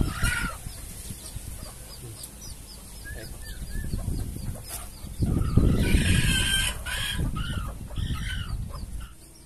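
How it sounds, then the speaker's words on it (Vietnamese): Several crossbred jungle fowl chickens cluck and chatter close by, a busy flock of eight with a brief louder burst of calls midway through. "cái bầy gà 8 con nè mọi người"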